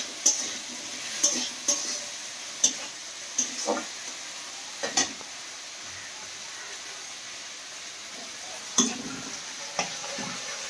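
A spoon scrapes and stirs spices in a frying pan, salt, chili powder and turmeric sizzling in oil, with a soft constant hiss broken by a series of sharp metallic clacks.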